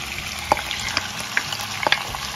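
Marinated chicken for shahi korma fries in a pan with a steady close sizzle, while a spoon stirs it and gives a few soft scrapes and knocks.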